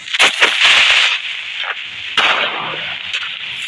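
Loud, noisy explosion bursts from the blocky game Craft World, a big blast followed by a second crackling burst, close and harsh with no talk.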